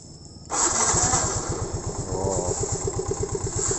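A motorcycle's electric starter cranks briefly and the engine catches, settling into a steady, close, rhythmic idle with its regular low pulses.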